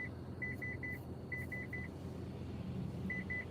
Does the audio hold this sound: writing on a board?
no